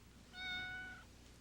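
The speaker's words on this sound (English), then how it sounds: "Handsome cat you got there." A cat gives a single drawn-out meow, close by and clear over a quiet room background, with no talking.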